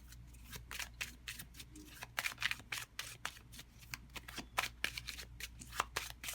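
Tarot cards are shuffled by hand in a rapid series of crisp riffling flutters and soft slaps, close and fairly quiet, with no voice.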